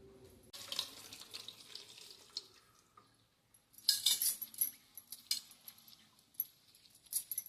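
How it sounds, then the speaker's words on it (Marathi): Tap water runs and splashes in bursts as drumstick-tree flowers are rinsed under the stream, with occasional light clinks and rustles. "आता ही अशी फुलं धुवून घ्यायची"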